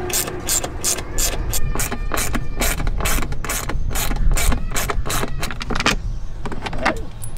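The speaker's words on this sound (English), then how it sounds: "First thing we gotta do is we gotta unbolt these and disconnect the battery." A hand ratchet clicks rapidly and rhythmically while unbolting the seat bolts in a van during a swivel seat installation, close and loud throughout, with regular bursts of ratcheting and faint metallic clinks.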